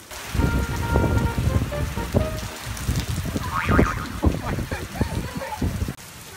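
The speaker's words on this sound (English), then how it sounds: "Are you playing in the rain?" Steady rain falls outdoors and patters densely on nearby surfaces, a constant close hiss with irregular heavier drops, and a brief higher voice rising faintly over it midway.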